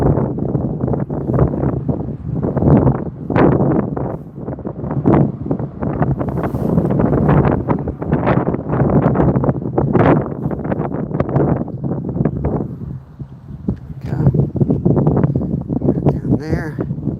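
Gusty wind buffets the microphone outdoors almost without pause, a loud, rough roar that swells and dips with the gusts.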